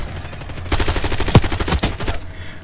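Shotgun blasts in a Call of Duty: Black Ops 6 match, a quick loud cluster of sharp booming shots lasting under two seconds, then fading to quiet.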